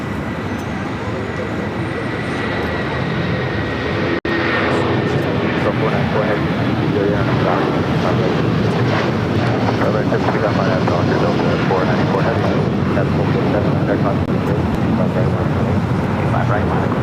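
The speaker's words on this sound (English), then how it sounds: "Another United 757 taking off." A United Boeing 757 takes off at LAX, its engines holding a loud, continuous roar for a long stretch, with a brief sharp click early on.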